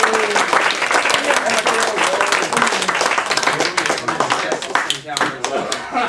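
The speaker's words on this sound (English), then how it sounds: "Let's have a warm round of applause for our speaker, Rosalie Riegle." Audience applause for a speaker at a talk on Dorothy Day, co-founder of the Catholic Worker Movement: steady, dense clapping from a seated crowd that fills the whole stretch, with voices mixed in underneath.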